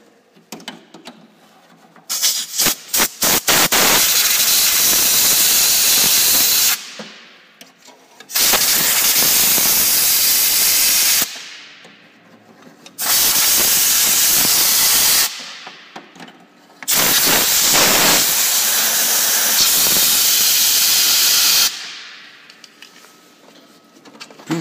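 Compressed air blasts through a De'Longhi DEM 10 air purifier and dehumidifier from the back in four long hissing bursts of several seconds each, with brief clicks beforehand and quiet gaps between, loud and close.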